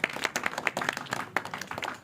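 A crowd of children clapping in quick, uneven bursts, fairly close, with a murmur of voices underneath.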